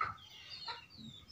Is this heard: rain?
no